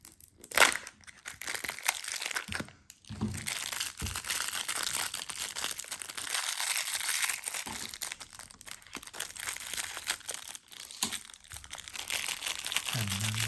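Crinkling and tearing of foil wrapping as a Toy Joy surprise toy egg is unwrapped, close and continuous with brief crackling bursts throughout.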